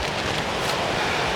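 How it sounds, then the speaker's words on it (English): Steady wind buffets a hillside in the Purbeck hills, a continuous broadband rush with gusty texture and no talking. "it's a wee bit windy"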